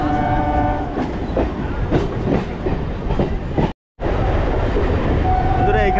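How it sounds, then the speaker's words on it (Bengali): A Kolkata local train on the Majerhat–Barasat line pulls into Princep Ghat station, with loud rumbling and clattering wheels and a drawn-out horn tone heard from on board. A short dropout cuts the sound midway. "আমাদের ট্রেন এখন ঢুকছে প্রিন্সেপ ঘাটে"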